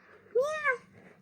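A cat at the vet gives a single clear, rising-then-falling meow, close and loud, over a quiet room hum.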